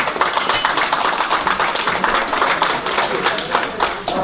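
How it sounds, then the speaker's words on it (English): An audience at a sorority fundraising gala breaks into loud, sustained applause for an honored guest, a thick, continuous patter of many hands. "Please give him a big round of applause."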